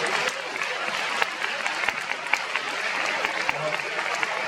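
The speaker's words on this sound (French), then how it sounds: "Applaudissements s'il vous plaît" Audience applause at a Paris Manga 2025 convention panel with Alyssa Milano, a moderately distant, sustained crowd clapping with scattered sharper individual claps throughout.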